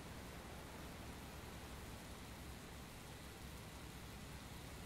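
Steady, hissing downpour in the video game Heavy Rain, a dense unbroken wash of rainfall at an even level with no voices.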